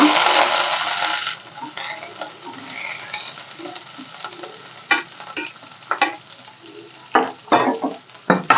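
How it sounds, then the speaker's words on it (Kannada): Three onions frying in a pan for a Kannada itak bele sambar, opening with a loud, dense sizzle that settles into a softer hiss with scattered clicks of stirring. "ನಾನು ಮೂರು ಈರುಳ್ಳಿ ತೊಗೊಂಡಿದ್ದೀನಿ ಅದನ್ನು ಫಸ್ಟು ಚೆನ್ನಾಗಿ ಹುರ್ಕೊಳ್ಳೋಣ"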